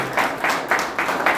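Applause from an audience at a political gathering, a dense run of clapping with rhythmic swells, moderately loud and close.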